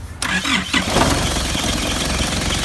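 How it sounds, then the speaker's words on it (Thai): The stock 3.0-litre turbo diesel engine of a 2001 Isuzu Dragon Eye four-door pickup cranks and catches, then settles into a steady, loud, rumbling idle close by. "เดี๋ยวเรามาฟังเสียงเครื่องกันนะครับ"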